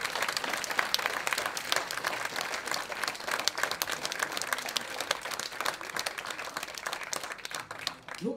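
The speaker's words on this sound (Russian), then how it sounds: "еще раз, ваши аплодисменты." Concert audience applause after a violin performance: continuous, fairly soft clapping from many hands with crisp individual claps audible throughout, sustained without a break.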